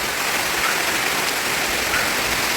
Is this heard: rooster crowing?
no